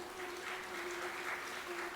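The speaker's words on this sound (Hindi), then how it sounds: "एक प्रभु जी ने बड़ी अच्छी ताली बजाई है, एक पुरुष ताली बजा रहे" A single man in an audience claps his hands at a steady pace, and the clapping sounds faint and somewhat distant in a hall over a low hum.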